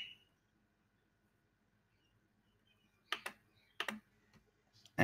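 A computer mouse clicks a few times in quick pairs during software downloading, crisp and close against a quiet background.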